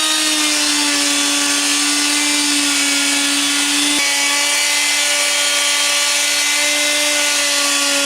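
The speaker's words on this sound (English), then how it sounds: "I'm using this hand router" Hand router cutting wood, a loud, steady high-pitched motor whine with harsh cutting noise, continuous and close throughout.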